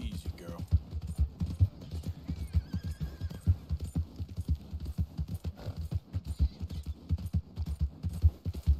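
Horse hooves gallop in a steady, rapid rhythm in a video game, loud and close, with a whinny and some voices talking over the run.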